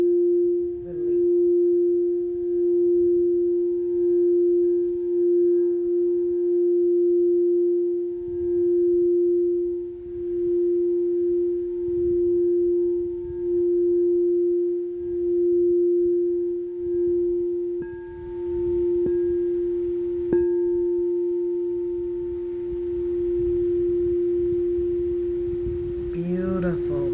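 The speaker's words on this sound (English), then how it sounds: "I absolutely enjoy the sound of the bowls." Singing bowls ring through a guided breathing meditation, one steady sustained hum holding for the whole stretch with faint overtones and a soft extra strike partway through, calm and close.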